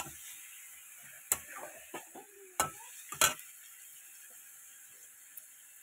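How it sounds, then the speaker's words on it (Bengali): Cumin, ginger, garlic, chilli and tomato are stir-fried in a pan. A soft sizzle sits under a few sharp scraping and clattering knocks from a spatula, spaced irregularly and fairly close. "এটা দিয়ে এবার ভালো করে কষাবো।"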